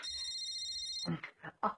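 A phone rings with a steady electronic ringtone for about a second, then stops as voices start talking nearby.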